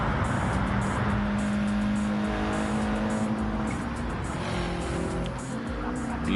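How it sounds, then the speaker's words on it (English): A race car engine in a touring car racing game at the Brands Hatch GP circuit drones loud and steady with shifting pitch as it passes, with no voices. "Beautiful sound of the car."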